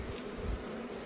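Honey bees buzzing at a hive in the mountains: a steady, faint, dense hum of many insects heard from close by, with no voices.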